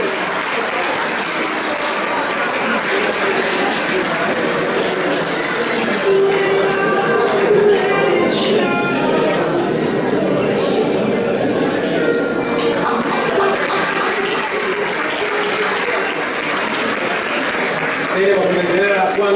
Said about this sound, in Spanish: fuerte el aplauso para Juan Carlos